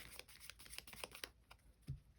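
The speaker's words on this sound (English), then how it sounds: "And then I can do like a little hand shuffle or whatever." Double-sleeved trading cards in anime art sleeves with over sleeves riffle in a quick hand shuffle, a rapid run of soft papery flicks up close that stops abruptly, followed by a single dull bump.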